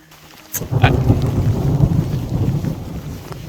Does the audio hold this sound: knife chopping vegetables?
no